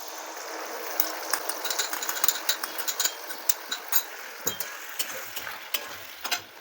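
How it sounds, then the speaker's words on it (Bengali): Potatoes being stirred with mustard paste in a pan for a Bengali boal fish mustard curry, giving a faint steady sizzle broken by irregular scraping clicks of the spoon, with no voices. "আলুগুলোকে কিছুক্ষণ নাড়াচাড়া করে তারপরে আমি এর মধ্যে গুলে রাখা সর্ষে গুঁড়োটা দিয়ে দিচ্ছি।"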